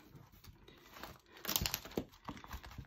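Paper banknotes rustle and crinkle as they are slipped into paper budget envelopes, with quiet, close handling sounds in short bursts.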